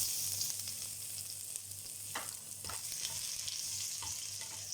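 Garlic and other ingredients sautéing in hot cooking oil in a pan for beef mung bean stew, a continuous close sizzle with a few soft stirring scrapes.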